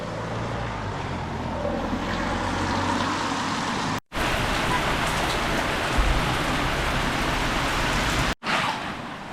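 Steady rain hisses down in Bury St Edmunds, a dense, continuous wash of patter on surfaces, broken by two brief cuts to silence.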